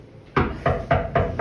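Knocks on a door by a storyteller as a sound effect, four or five firm hollow raps in an even rhythm, close and distinct with no voice over them.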